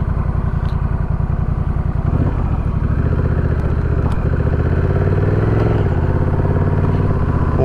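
A Honda Rebel 1100 motorcycle pulls away, its engine loud and close with a rapid throbbing exhaust pulse that rises in pitch and grows fuller as it accelerates, nobody speaking.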